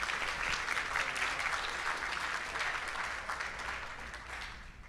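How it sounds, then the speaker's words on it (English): An audience at the Mindful Money Conference 2025 gives its facilitators a big round of applause: sustained, crowded clapping that stays full and even, then eases slightly toward the end. "So a big round of applause too to all our facilitators"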